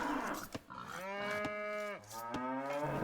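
Cattle mooing in the video game Age of Empires: two long, loud, drawn-out moos, one after another, heard alone.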